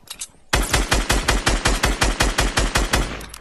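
Gunfire in the Fortnite video game: after a short pause, a loud, close automatic burst of about fifteen evenly spaced rapid shots rattles out without a break.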